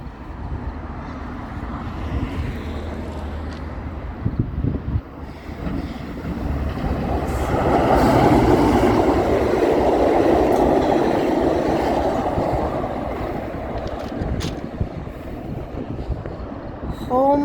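A Metrolink passenger train passes nearby, its broad rumbling roar swelling to a peak midway and then fading, with wind buffeting the microphone throughout.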